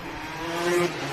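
Racing karts with 250cc single-cylinder engines derived from motocross bikes snarl around a club championship circuit, a loud, buzzing engine drone that rises briefly as a kart accelerates past.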